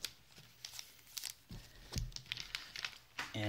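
Scissors snip and crinkle through the plastic wrapper of a dollar-store mystery hockey card pack, several short, quiet crackling cuts close by with no talking.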